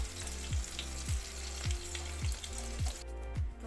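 Beef chapli kababs sizzle in a hot pan, a steady close crackle of frying oil broken by about six rhythmic scraping or stirring strokes.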